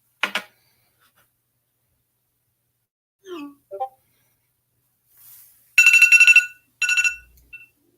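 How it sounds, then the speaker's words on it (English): A phone alarm goes off in short, loud, ringing bursts near the end, after a few scattered faint sounds and brief murmurs. "My alarm keeps going off at completely random times."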